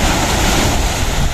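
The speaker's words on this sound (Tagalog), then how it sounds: "So sa ngayon na panahon medyo malakas ang alon dahil medyo mahangin." Strong ocean surf churns steadily on a windy day along the coast near Zaragoza Island, off Surigao, a loud continuous roar of breaking waves mixed with gusting wind noise, close by and without talk.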